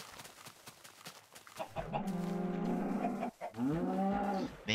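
Cows in the Minecraft video game let out drawn-out moos that come in two calls, one right after the other, over a softer jumble of game noise at the start.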